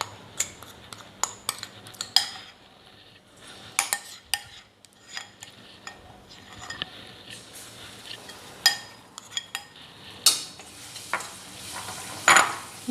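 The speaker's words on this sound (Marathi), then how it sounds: "हे सगळं या तापलेल्या तेलामध्ये घालून घेऊयात" Potato batter fritters for a Rajasthani-style snack sizzle in hot oil in a home kitchen, with a soft steady frying hiss under frequent sharp clinks and scrapes of a spoon against the pan, no talking.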